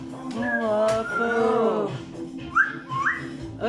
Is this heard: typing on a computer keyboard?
no